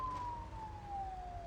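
A police car siren in BeamNG.drive, a single sustained tone gliding slowly downward over a low engine rumble, moderately loud with no speech.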